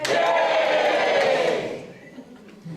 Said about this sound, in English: But a cheer for Lysander and love.